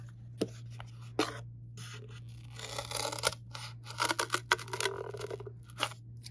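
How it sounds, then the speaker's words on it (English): Scissors cut through pieces of cardboard up close, several sharp snipping and crunching strokes spread across the clip over a low steady hum, with faint rubbing between cuts. "take your scissors, try and get down into the middle, and cut down a little bit more than half on both of the pieces of cardboard"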